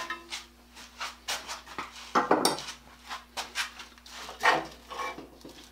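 Metal parts of a Stanley No. 8 hand plane being taken out and handled, with a series of close clinks, clanks and knocks of iron pieces set down and shifted at an uneven pace, and a faint steady hum behind.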